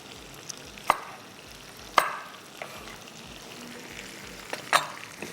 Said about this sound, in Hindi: इसको इतना पकाना है कि टमाटर जो हैं वो अच्छे से सॉफ्ट हो जाएं